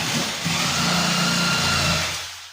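An electric jigsaw cuts into a wooden floorboard, a loud continuous buzzing whine held close for about two seconds and then tapering off, with no talk.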